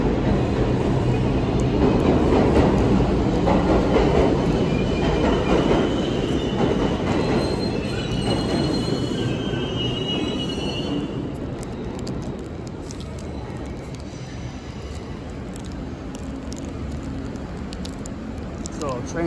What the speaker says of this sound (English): so train's coming leaving in 3 minutes